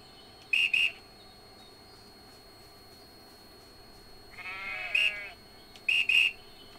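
A shepherd's whistle in the farming video game EverDream Valley gives short, shrill two-note blasts, first one pair, then a longer rising trill, then two more pairs, loud over a quiet background hum.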